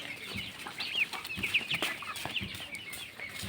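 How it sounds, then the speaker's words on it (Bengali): Young Chinese ducklings calling on a farm, a run of thin high peeps and soft chirps scattered over quiet background noise. "এই যে এটা হচ্ছে চীনা হাঁস, কিন্তু একসাথেই সুস্থ আছে।"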